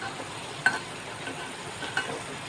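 Jackfruit seeds frying in a pan, a steady soft sizzle with two short stirring scrapes about a second apart, close and alone.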